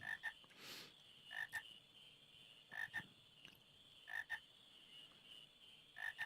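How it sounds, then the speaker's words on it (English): Frogs croak in the fantasy RPG Final Fantasy IX, arriving in short paired bursts roughly every 1.3 seconds over a quiet steady ambient bed, moderately close and fairly faint. "Frogs!"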